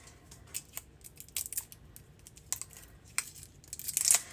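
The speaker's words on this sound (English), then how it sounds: "Let's get these tapes open." Packaging around rolls of decorative washi tape is torn and crinkled open in quick irregular bursts of rustling and ripping, close up and growing louder toward the end.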